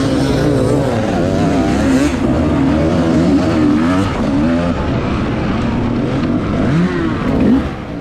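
Off-road race motorcycles rev hard on a loose rocky climb, a dense, continuous engine roar with rising and falling pitch, loud and close throughout.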